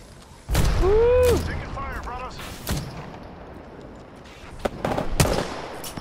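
Apex Legends firefight with bursts of gunshots and booms scattered through the scene, a loud sweeping effect early on, then sharper isolated shots, close and punchy.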